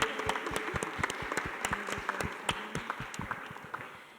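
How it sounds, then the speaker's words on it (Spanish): Audience at a public dialogue event applauds steadily, with dense overlapping claps and a few louder individual ones standing out, sustained at moderate level throughout with no talking. "Un fuerte aplauso, por favor."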